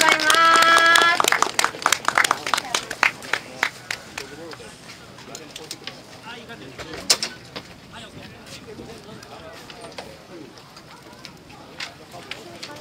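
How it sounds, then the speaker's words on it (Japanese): An audience claps for a custom motorcycle parts presentation at a Cafe Cub Party gathering near Lake Biwa, Kyoto. A brief voice opens, then dense clapping rings out and thins to scattered claps. "皆様拍手をお願いいたします"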